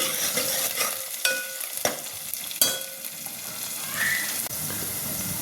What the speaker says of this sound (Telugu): చూడండి, లైట్గా వేగుతున్నాయి